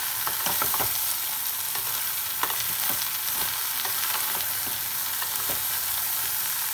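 Chana dal and bottle gourd fry in a pan, with a constant close sizzle and repeated scraping stirs of a spoon against the pan at an uneven rhythm, and no talking.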